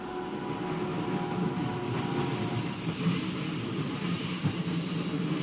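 In Train Simulator Classic, a train on the Mittenwaldbahn brakes with a sustained high metallic wheel squeal over a rumbling rolling undercarriage, steady and fairly close.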